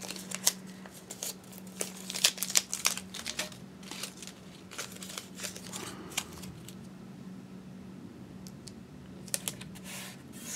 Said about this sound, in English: I'll go ahead and tape that there.